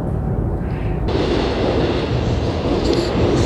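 Subway train rumbling through a station in Seoul, a loud, steady broadband roar of rail noise that swells slightly and holds for the whole stretch, with no talk over it.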